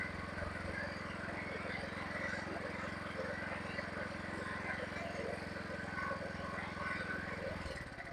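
ACEUP AI 4500 open-frame inverter generator running steadily in eco mode, a loud continuous engine drone with a buzzing hum that holds close and even before dropping off at the very end as it idles down.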